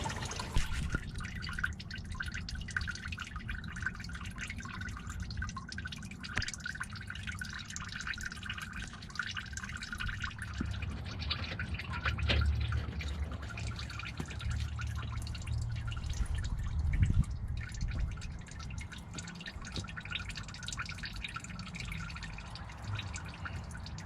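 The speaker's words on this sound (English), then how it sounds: "I could probably sit here all day and let it drip out" Coolant drains and drips steadily from the radiator of a 2006 Jeep Grand Cherokee, a continuous close trickle with scattered drops and no talking.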